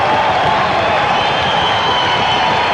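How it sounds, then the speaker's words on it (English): Large crowd roaring and cheering at a kickboxing fight, a loud, unbroken wall of noise with mixed shouts and some clapping throughout. "Straight back up and the crowd going nuts"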